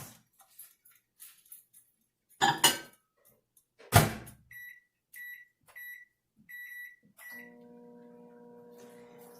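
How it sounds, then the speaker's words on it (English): Quiet handling clatter and a microwave door thud, then several short electronic beeps from its keypad, followed by a low steady hum as the microwave starts running. "I'm going to put it over here in the microwave for like 2 minutes"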